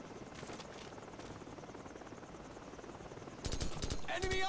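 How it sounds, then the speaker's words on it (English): Military helicopters in Call of Duty Modern Warfare drone in steadily with a dense rotor rumble under game voice callouts, then grow louder near the end as sharp bursts of gunfire cut in. "Heads up! Choppers inbound!"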